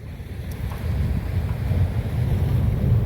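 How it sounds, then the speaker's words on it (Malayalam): Wind and waves rumble at Kasaragod estuary, a fishing spot: a continuous low wash of surf and gusty wind noise building slightly in loudness, with no voices. "അഴിമുഖം. കാസർഗോഡ് അഴിമുഖമാണ്."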